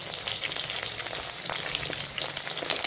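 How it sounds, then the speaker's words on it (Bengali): Boiled, salted chicken pieces with no egg or sauce deep-fry in hot oil in a pan for homestyle chow mein, sizzling and crackling loudly and steadily up close with no voices. "জাস্ট চিকেনগুলোকে ফ্রাই করে নিচ্ছি"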